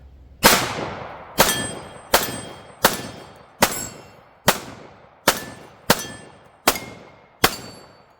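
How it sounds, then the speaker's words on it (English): Ten sharp shots from a Smith & Wesson M&P45 pistol, each followed by the ringing clang of steel targets, fired at a steady, even pace of about one shot every three-quarters of a second. "Just a few more shots here on steel"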